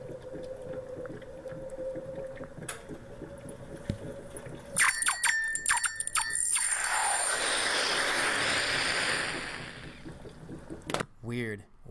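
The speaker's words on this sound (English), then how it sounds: "He's going to combine a red-hot nickel ball with water." A red-hot nickel ball heated with a blowtorch is plunged into water. After a few faint clicks, a loud, close burst of hissing and crackling sizzle rises and swells, then fades over several seconds.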